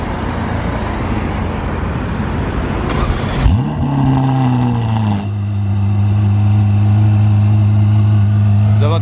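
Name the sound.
Ferrari cold start-up engine with valves closing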